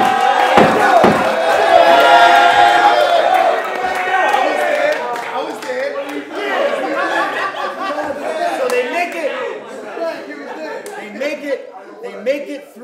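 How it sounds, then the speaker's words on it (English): A crowd cheers and whistles loudly, with a sharp whistle cutting through early on, then settles into scattered clapping, chatter and laughter. "They all whistle and cheer."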